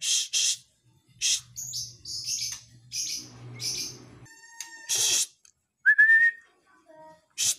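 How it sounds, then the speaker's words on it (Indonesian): A male Medan white-rumped shama (murai batu trotol) sings in bursts of bright whistles, chirps and trills separated by short pauses, close and clear with no talking. "ketika melihat murai batu trotol jantan medan ini"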